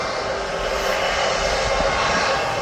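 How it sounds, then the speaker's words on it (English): The Belfast flight taxis toward the runway at Birmingham Airport, its aircraft engines giving off a steady, moderately loud drone with a faint whine, constant and unbroken. "the Belfast is going towards the runway"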